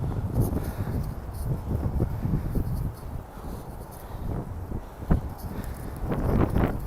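Gusty wind buffets the microphone in uneven rumbling bursts in Flushing Meadows-Corona Park, rising and falling outdoors, with faint scattered sounds in the background.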